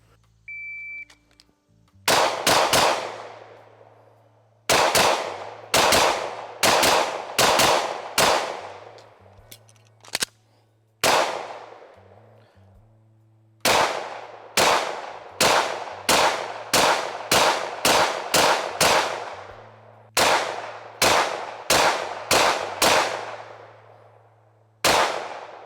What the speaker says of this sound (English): So we'll shoot this PDP Pro after this.